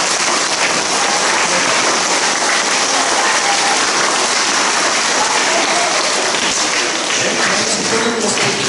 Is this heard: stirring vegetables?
no